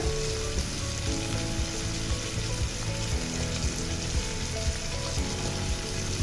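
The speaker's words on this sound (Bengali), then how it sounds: "তো রসুন আর আদাটাকে একটু ভালোভাবে তেলের সাথে ভেজে নিচ্ছি, যেন রসুনের কাঁচা গন্ধ চলে যায়।" Garlic and ginger paste fries in hot oil for a chicken and cauliflower curry, a loud, steady, close sizzle that continues without a break and has no talking over it.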